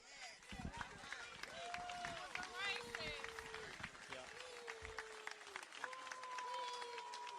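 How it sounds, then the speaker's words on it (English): A crowd in a public gathering jeers and boos at a speaker, a loud sustained roar of voices with scattered claps and shouts, while a voice speaks over the noise. "They're booing him."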